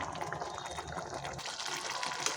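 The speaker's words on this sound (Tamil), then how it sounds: "கொஞ்சம் தண்ணி விட்டு நல்லா கொதிக்க விடுங்க" Water poured into a pan of potato masala for poori, a steady close liquid gushing and bubbling sound that carries on throughout without talk.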